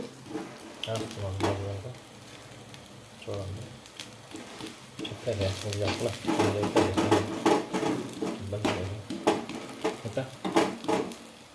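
Dosa batter sizzles and fries on a hot pan with spicy tempering seeds in a home kitchen, a steady crackle broken by scraping and clinking utensil sounds while people talk over it.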